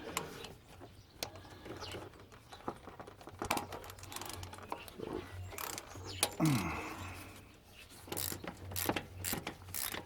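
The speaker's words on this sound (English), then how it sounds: "Ratchet in the right direction will be good." A ratchet clicks at close range as it turns on the belt tensioner of a Ford Falcon XR6, with faint birds cooing in the background.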